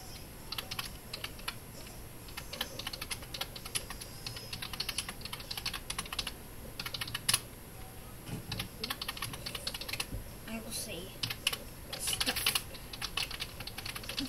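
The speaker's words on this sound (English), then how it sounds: "If you can't hear me, I'm typing." Steady clicking of a computer keyboard during a Roblox gaming session, with rapid, irregular keystrokes and occasional louder bursts running continuously at moderate, close-up volume with no talking.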